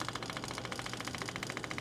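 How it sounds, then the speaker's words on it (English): A small low-pressure diesel fuel boost pump on a Mercedes 300D with a vegetable oil conversion runs with a rapid, steady pulsing buzz, close by, ticking in an even rhythm with no one speaking. "So listen as I turn the pump on."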